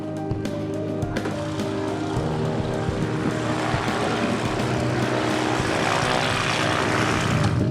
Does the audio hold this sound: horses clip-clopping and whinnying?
no